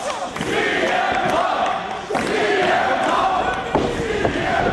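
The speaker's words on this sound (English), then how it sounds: "This crowd firmly behind Punk as Jimmy Rave with a knee to the gut" Arena crowd noise at an indoor professional wrestling match, a steady loud roar of voices with swells of cheering and occasional thuds from the ring throughout.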